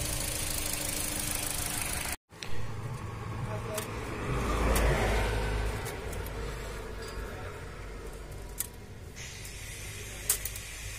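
An overheating Maruti Swift Dzire petrol car with its engine running steadily at idle nearby, a low continuous rumble with a brief cut and a slight rise in revs, while someone talks over it.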